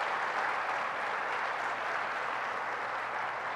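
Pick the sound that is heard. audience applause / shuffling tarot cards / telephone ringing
audience applause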